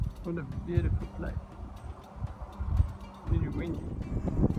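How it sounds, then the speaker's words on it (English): Gusty wind buffets the microphone outdoors at a cherry farm near Fouriesburg, a low rumbling roar rising and falling throughout, with faint voices and rustling in the background. "Really windy."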